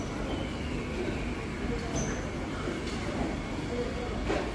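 Sealdah to Komagata Maru Budge Budge local train pulling out at 6:10, a steady broadband rumble of wheels and carriage noise with faint squeals, continuous and fairly close throughout.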